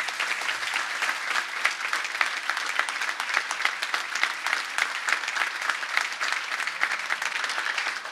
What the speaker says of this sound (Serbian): I na kraju najveći aplauz Dragan Purko Ivančević.